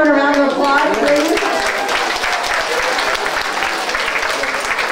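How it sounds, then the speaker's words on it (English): Audience at a school award ceremony breaking into loud applause, dense clapping that starts at full strength and slowly thins, with children's voices mixed into the crowd. "Let's give everyone a round of applause, please."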